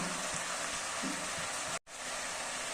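Lentil dumplings (bori) fry in a pan of Malabar spinach, giving a loud, continuous hissing sizzle like heavy rain, broken only by one brief dropout near the end.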